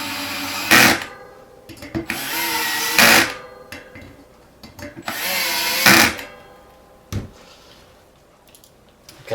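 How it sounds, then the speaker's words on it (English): A power driver set to low torque drives rotor bolts into a race bicycle wheel hub in a few short whirring bursts, each ending in a clicking stall, with pauses between and no speech. "I have my power driver set for a very low torque, so it'll still drive it in"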